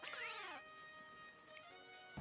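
A video game cat lets out one sharp, rising-then-falling meow, followed by soft, sustained synthetic game tones and a quick thump at the end.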